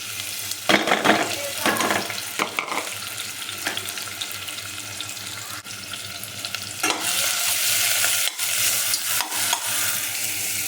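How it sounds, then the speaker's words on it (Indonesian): Food hits hot cooking oil in a pan with a bright crackling sizzle, bursts of spattering and stirring scrapes coming and going close by, no voices. "minyak dah panas kita tuang"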